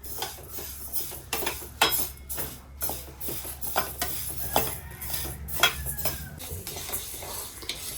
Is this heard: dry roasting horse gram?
yes